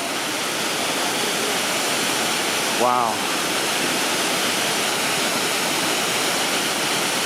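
Inglis Falls roars steadily as a broad, constant rush of falling water close by, filling the whole clip, while a person briefly exclaims partway through.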